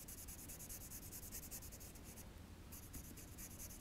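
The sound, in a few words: coloring a drawing with a pencil on paper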